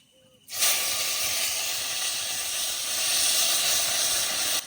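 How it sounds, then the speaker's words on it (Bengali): Cumin seeds and bay leaves dropped into hot oil for a Bengali fish curry, a sudden loud sizzle bursting in after a quiet moment and holding as a steady hiss, close by. "তেল ঝাল করার জন্য ফোড়নে দিয়ে দেবো জিরে আর তেজপাতা।"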